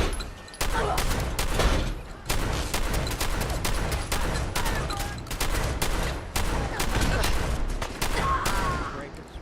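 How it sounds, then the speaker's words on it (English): Heavy gunfire in Fallout 4, a dense fusillade of close, loud shots firing almost continuously in rapid bursts with only brief gaps, filling the whole stretch. "They're gonna shoot us!"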